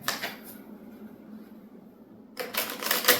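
Cards for the Earthborne Rangers card game being shuffled by hand, two short bursts of crisp riffling and flicking close to the microphone, separated by a quiet pause.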